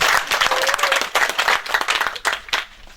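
Crowd applause at the Nekang Pe Mungoum 2023 gathering honoring the king of Bamougoum, a loud, close burst of many hands clapping with irregular sharp claps standing out, continuous throughout.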